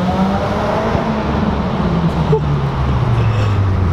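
A Subaru WRX with a big rear wing drives through a tunnel, its engine a loud, steady droning roar with enclosed road rumble throughout and no talk.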